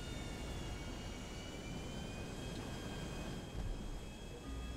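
An airplane in GTA V produces a steady, droning jet engine hum with a high whine, loud and continuous throughout without breaks.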